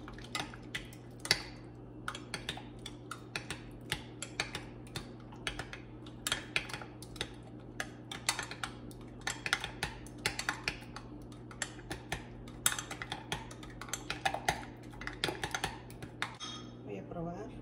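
Whisking a shrimp fajita cream sauce seasoned with pepper and salt, a steady run of light clinks and taps of a utensil against a bowl, close and fairly quiet, continuing for a long stretch.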